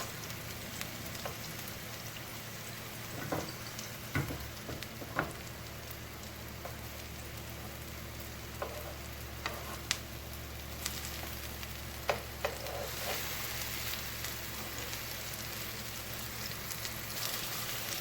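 Chicken pieces sizzle in a pan in a steady, fairly quiet fry, with scattered crackles and pops throughout and no talking.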